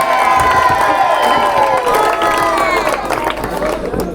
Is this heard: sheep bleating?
no